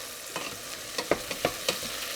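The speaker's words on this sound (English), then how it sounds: "So I'm gonna actually just let them cook a little bit." Blackberries cooking in a pan for a marinara sauce, a gentle sizzle with a few clicking stirs of a utensil against the pan, close and quiet, no talking.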